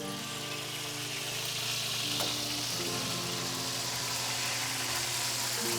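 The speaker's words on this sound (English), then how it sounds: "It's sizzling, it smells amazing." Prime rib just out of the oven sizzles and crackles steadily close by, a dense hissing spatter with a low hum underneath.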